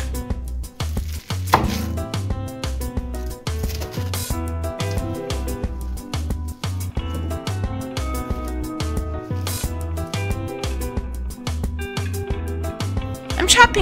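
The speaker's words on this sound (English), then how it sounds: "I'm cutting the lettuce into ribbons." A knife chops rapidly and rhythmically against a cutting board, slicing lettuce in quick steady strokes while soft music plays underneath.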